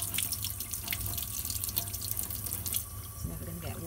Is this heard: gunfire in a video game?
no